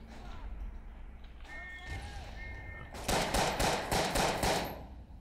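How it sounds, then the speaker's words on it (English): In the World War I shooter Verdun, a burst of loud, rapid explosive thuds, like mortar shells or gunfire, rolls in quick succession after quieter battlefield ambience with faint whistles and distant noise. "Alright, I'm gonna mortar shell them."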